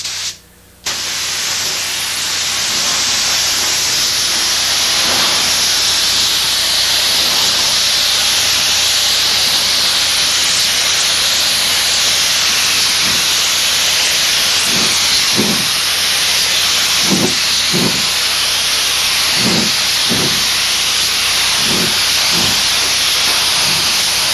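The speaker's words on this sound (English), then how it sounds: "After that coat sets up, spray on another wet coat." Spray gun laying a wet coat of paint on a car body during body repair, a steady, loud, continuous hiss after a short start, with faint knocks from movement now and then.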